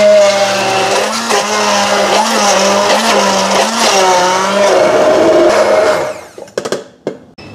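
Hand blender grinding spices such as coriander with a little water or oil, a loud, close, whirring motor whine that shifts pitch as the blade works. It runs steadily, then cuts off into a few short bursts and clatters near the end.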